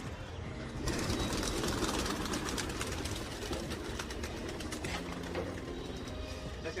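Pigeons are let out of a rooftop loft in a sudden loud burst of fluttering wings, then keep flapping and cooing in a busy, close jumble.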